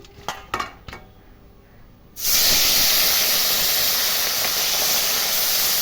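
Pieces of rohu and pona fish, rubbed with salt and turmeric, dropped into hot oil in a kadai: a few clinks, then a sudden loud, sustained sizzling hiss that continues steadily.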